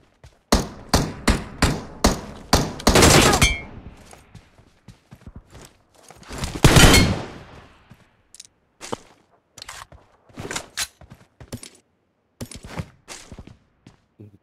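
Gunfire in the PUBG Mobile video game: a rapid run of sharp, loud shots, then a single heavy burst, followed by scattered lighter clicks and thuds.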